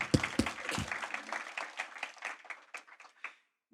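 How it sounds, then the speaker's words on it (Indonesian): Church congregation clapping in response during a sermon, a brief burst of scattered applause that fades out within a few seconds. "Berikan tepuk tangan kita."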